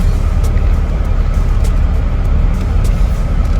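A 2019 BMW X7 SUV on the road, heard as a steady, loud low rumble of engine and tyre noise, a constant drone with no breaks.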